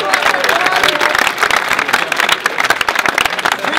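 Loud audience applause and cheering at a UK rap battle, dense continuous clapping filling the room with crowd noise throughout, no clear talk on top.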